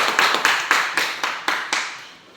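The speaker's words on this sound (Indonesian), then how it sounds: "Tepuk tangan kelompok Madinah." A school class clapping together for the Madinah group, loud, sharp unison claps in a steady rhythm, about eight of them slowing and fading at the end, with no talk.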